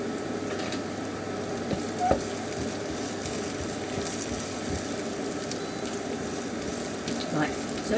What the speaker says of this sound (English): so we are just frying onions